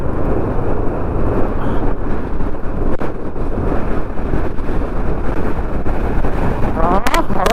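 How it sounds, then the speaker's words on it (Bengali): Strong wind sweeps through a mountain valley near Jomsom and Marfa in Nepal, buffeting the microphone with loud, gusty low roaring that surges and dips throughout. "হাওয়া দিচ্ছে দেখো, ভ্যালিতে হাওয়া দিচ্ছে দেখো, সাউন্ডটা শুনতে পাচ্ছ?"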